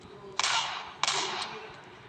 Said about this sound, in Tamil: அவனை சுடுறேன்.